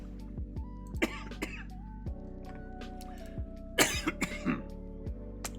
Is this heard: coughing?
yes